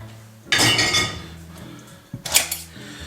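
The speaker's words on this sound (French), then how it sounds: "La vaisselle vidée, nickel." Dishes are unloaded in a home kitchen, with two bursts of clattering plates and clinking cutlery, near and fairly loud, separated by quieter handling sounds.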